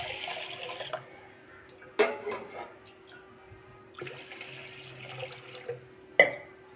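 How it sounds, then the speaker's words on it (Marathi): Water poured into a bowl of washed fenugreek seeds, heard as short splashy bursts of pouring liquid separated by quieter gaps, fairly close and moderately loud. "आता त्यात पाणी टाकूया"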